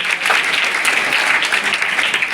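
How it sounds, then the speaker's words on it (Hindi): An audience at a Haryana quiz event claps together in loud, dense applause that holds steady for the whole moment. "जोरदार तालियां।"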